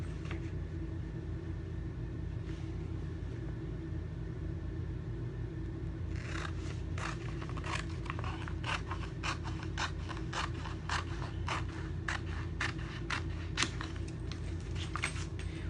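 Scissors snipping out a Chalk Couture transfer along its cut lines, a steady run of crisp close cuts starting after several seconds of quiet, over a constant low background hum.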